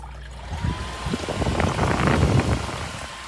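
An evaporative air cooler running with its fan on, water trickling steadily through the cooling pads in a continuous, moderately loud wash that swells slightly midway, with no talking.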